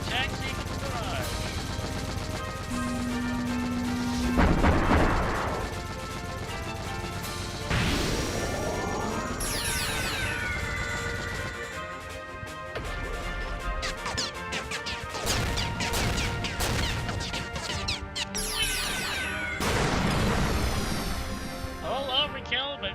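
An artillery barrage attack from the game Super Holo Wars lands in a run of heavy crashes and impacts with whooshing, tonal effects and game music, while speech runs underneath.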